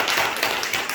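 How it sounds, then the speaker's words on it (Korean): A church congregation claps in welcome during a Sunday service, a short burst of scattered hand claps at moderate level. "우리 한번 환영의 박수 할까요?"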